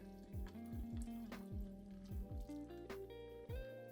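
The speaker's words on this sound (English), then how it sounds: "I'm going to pour the coffee into top of the ice." Brewed Keurig coffee poured over ice in a glass three-quarters full of cubes, faint liquid gurgling with rising fill tones and repeated light clinks and cracks of ice settling.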